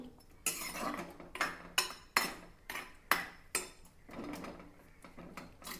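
A metal spoon scrapes and clanks against a cooking pot while curry with turmeric and water is mixed, giving close, sharp strokes in an uneven rhythm with quiet gaps between.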